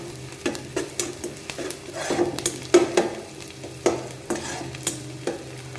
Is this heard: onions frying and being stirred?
yes